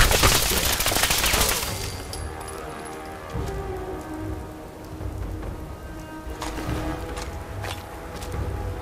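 Gunfire in the video game Fallout 4 rattles out as a dense, loud burst of rapid shots at the start, followed by scattered cracks and impacts over a steady noisy background.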